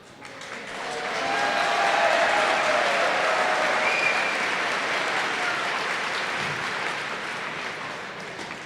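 A large audience applauds steadily for Paul Strandy, the final inductee at a high school athletic hall of fame ceremony, the clapping swelling quickly and holding full for several seconds before slowly tapering.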